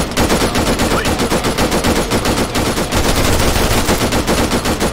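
Loud, rapid bursts of automatic gunfire in the military shooter Arma 3, close and relentless, with sharp repeated shots filling the whole stretch and no voices.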